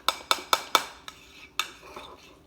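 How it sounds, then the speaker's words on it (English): Spoon scraping and clinking against a bowl while mixing thick waffle batter of protein powder and coconut flour: four quick, evenly spaced clacks, then a few sparser, softer taps, all close and alone. "Pretty thick as I mix it, because the protein powder that I'm using and the coconut flour."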